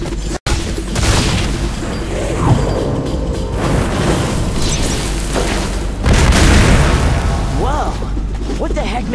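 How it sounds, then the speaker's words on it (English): Booming explosions from a Teenage Mutant Ninja Turtles Out of the Shadows video game, loud repeated blasts and crashes with a heavy low rumble, layered with busy combat effects and game sounds throughout. "Makes a green explosion."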